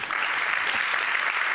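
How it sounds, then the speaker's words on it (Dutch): Warm applause from an audience at a Dutch event about rainbow families, a dense, even wash of clapping that stays steady and fairly loud for the whole short stretch. "geef hem een warm applaus"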